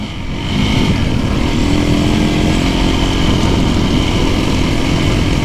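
A motorcycle engine drones steadily at close range while riding, a continuous buzzing roar that rises just after the start and holds constant, with no talk.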